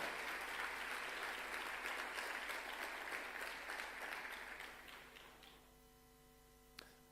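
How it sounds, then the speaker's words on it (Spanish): A church congregation claps loudly during a worship service, with a dense, steady wash of applause that fades after about five seconds and leaves a faint hum and a single sharp tap. "Si lo crees, aplaudí fuerte al Señor en esta hora"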